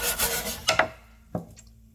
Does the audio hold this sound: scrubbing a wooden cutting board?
yes